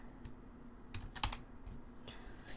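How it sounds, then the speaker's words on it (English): Quiet, irregular keystrokes on a computer keyboard, a few sharp taps clustered together against a faint background hum. "Excuse me for my bad typing."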